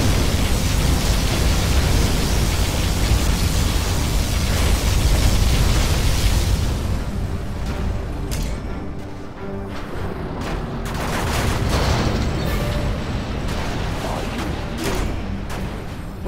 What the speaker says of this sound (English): We have launched our nuclear missile. Our Scud storm has been launched.